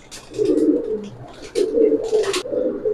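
Pigeons at a Bangladeshi pigeon market coo in repeated low, throaty bursts, two main phrases with soft rustling and faint chirps between them, close and fairly loud with no talk.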